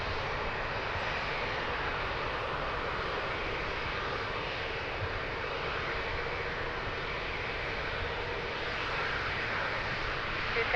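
Steady, broad roar of an airplane's engines at Lisbon Airport during takeoff, a continuous distant rumble and hiss holding even in level throughout.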